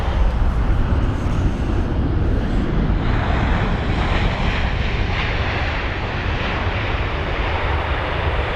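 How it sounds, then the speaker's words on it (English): A LoganAir ATR 72 turboprop near London Heathrow gives a steady, loud engine roar, reportedly running on one engine, with faint wind buffeting on the microphone and no speech. "There's the Logan Air ATR 72"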